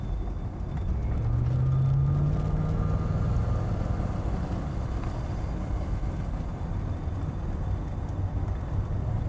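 A Mercedes-Benz 500E with automatic transmission on a road test drive, heard from inside the cabin as a steady low road and engine rumble, with a brief whining tone early on and no talk.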